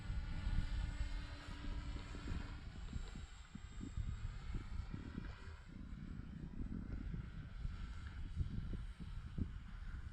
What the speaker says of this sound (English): Yeah, we definitely got a vibration that's very noisy.